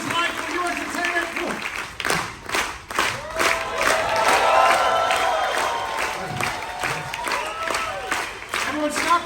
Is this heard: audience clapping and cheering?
yes